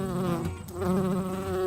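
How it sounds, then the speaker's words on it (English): A bee buzzes steadily among garden flowers, a close, continuous droning hum that wavers slightly in pitch and grows a little louder toward the end. "Oh, we got another bee."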